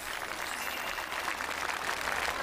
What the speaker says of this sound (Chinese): 来吧，刚才亮红牌的给自己鼓鼓掌